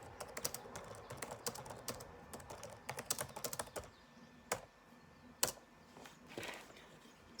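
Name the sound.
typing on a computer keyboard into chat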